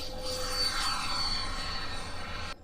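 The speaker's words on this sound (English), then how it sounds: "an airport for RC planes and jets" RC model plane or jet flying over an RC park airfield, a faint, steady high-pitched engine whine at a distance that holds for a couple of seconds and then cuts off.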